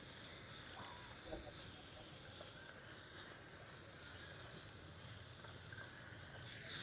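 Ingredients sautéing in a tiny pan for a miniature Tamil tamarind curry, giving a steady, close, continuous sizzle and hiss with soft stirring scrapes, no voices.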